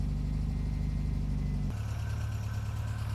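A cold supercharged MGB GT engine idles close by with a steady, slightly uneven rumble that shifts to a lower, rougher beat partway through, with no voices.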